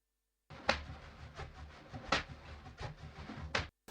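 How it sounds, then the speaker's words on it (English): Percussion loop of sharp transient hits at an uneven rhythm over a low, steady pulse, close and moderately loud for about three seconds before cutting off. "This is just a percussion loop."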